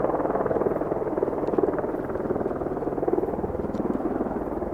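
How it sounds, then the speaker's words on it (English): A helicopter flies overhead, its steady rotor thudding loud and close, droning continuously without interruption. "and now the helicopter's over here"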